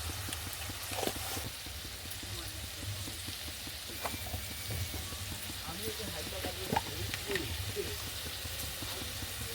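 Ground cumin and red chili powder fry in hot oil in a pan while pointed gourd and prawns cook, giving a steady, close sizzle with soft stirring scrapes throughout.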